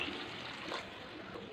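Water pouring into a cooking pot of tamarind and egg stew, a steady, soft splashing stream lasting a moment with no talk.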